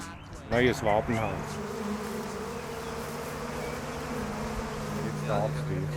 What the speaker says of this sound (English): This swarm is trying to make a nest in the rafters of a play school building.